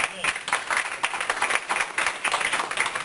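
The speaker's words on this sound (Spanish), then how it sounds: "Denle un aplauso al Señor por eso" A Spanish-speaking church congregation breaks into quick, rhythmic clapping, a fairly close and moderately loud burst with some voices mixed underneath.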